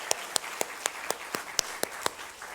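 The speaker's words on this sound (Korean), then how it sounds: "우리 하나님께 영광의 박수를 한번 올려드리기를 원합니다." At a Sunday afternoon church worship service, crisp hand claps ring out in a steady, evenly spaced beat, about ten sharp claps over low room noise, sounding like a small group clapping together.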